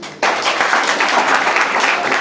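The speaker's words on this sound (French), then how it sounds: "Ça, on peut applaudir ça." Dense, crackling applause from an audience at a hacking night opening breaks out suddenly and holds steady and loud to the end.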